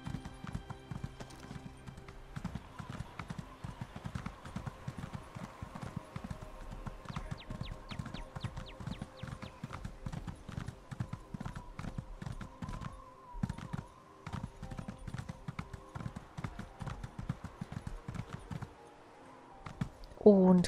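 Horse hooves clip-clop steadily at a trotting rhythm in the video game The Elder Scrolls Online: Morrowind, a dense regular patter running through the whole stretch under game ambience, with a brief whinny-like cue near the end.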